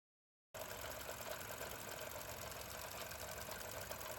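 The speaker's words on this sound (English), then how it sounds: "And just listen at that rattle." A Ford EcoBoost 1.0 engine with no coolant flow runs after a brief silence, giving a steady, dense mechanical rattle that stays close and unchanging throughout.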